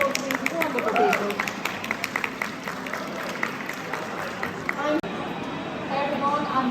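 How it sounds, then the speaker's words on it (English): Audience applause at a panel during the OLL 22 retro game convention, steady clapping from a crowd that runs beneath talking voices for the whole stretch. "Excellent round of applause to these wonderful people"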